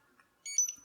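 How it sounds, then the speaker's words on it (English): A single short electronic beep, thin and high-pitched, from an Inateck BCST-10 Bluetooth barcode scanner confirming pairing, sounding once at the end after near silence. "And now you get a beep that it is connected to an input device."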